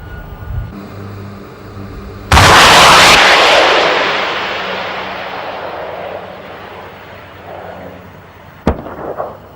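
A Bofors anti-aircraft gun opens fire on a towed sleeve target: a single sudden, loud blast with a long rolling decay, then a sharp crack near the end, with no voices.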